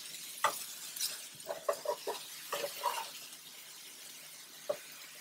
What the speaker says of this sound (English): when the onions start to fry on one side